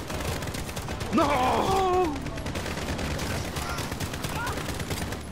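Rapid automatic gunfire in Modern Warfare's Infected mode chatters in the background under a shouted voice, a dense continuous rattle of shots.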